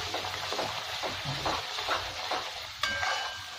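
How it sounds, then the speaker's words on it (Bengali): Kashmiri-style chicken masala frying in oil in a pan until the oil separates from the spices, with a steady close sizzle and occasional stirring scrapes. "মশলার থেকে আমার তেল ছেড়ে দিচ্ছে।"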